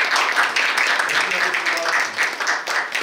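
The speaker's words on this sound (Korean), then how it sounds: "우리 다 같이 우리 문화체육관광국장님께 더 큰 박수 한번 보내드릴까요?" Applause fills a city council policy forum on young artists as the audience claps for the culture, sports and tourism bureau director, a steady, dense patter of many hands throughout.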